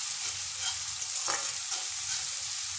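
Garlic-ginger paste and chopped green chilli fry in a pan for aloo gobhi sabzi, giving a steady close sizzle with brief stirring scrapes throughout.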